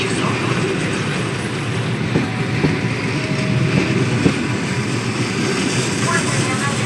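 International train 302 Minsk–Adler pulls out of Minsk station with a continuous loud rolling rumble and faint rhythmic wheel clicks, and a voice sounds over it at times.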